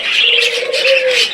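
A ghughu dove coos close by in a single soft, low, drawn-out call, with faint chirping from other birds behind it.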